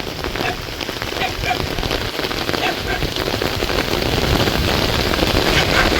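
Heavy first rain of the season in Baramati falls in a steady, dense downpour close by, hissing loudly on surfaces throughout with a constant wash of drops.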